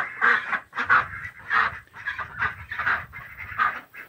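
Ducks at their watering setup quacking in a steady run of nasal, honking calls, about six or seven loud close quacks in rhythmic succession with no talk over them.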